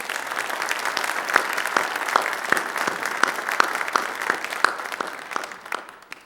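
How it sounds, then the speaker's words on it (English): An audience in a village theater applauds the township supervisor after a State of the Township address, giving steady, full clapping with some sharper individual claps, fading slightly toward the end. "Another round of applause for our supervisor,"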